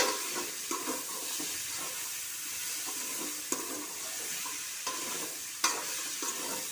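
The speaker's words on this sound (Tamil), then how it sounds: "நல்லா வதக்கணுங்க வதக்கி விடுங்க" Mixed vegetables for sambar sautéing in hot oil, a steady crackling sizzle with spoon scrapes and stirring clatter at intervals, close and alone without voices.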